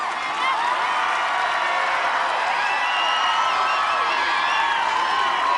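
Loud, dense crowd cheering and whooping at American Ninja Warrior, a steady roar that swells slightly, with shouting voices blended throughout.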